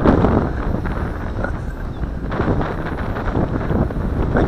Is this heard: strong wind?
yes